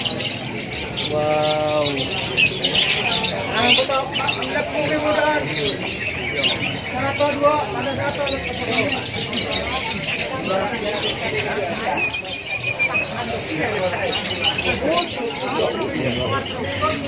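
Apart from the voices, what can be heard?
lovebirds chirping at a bird market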